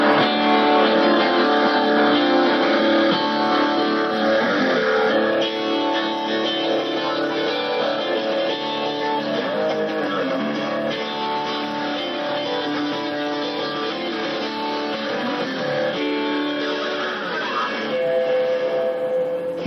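Digital Gibson Les Paul electric guitar run through effects, giving a dense, sustained, heavily processed tone that plays continuously and loudly throughout with shifting layered pitches.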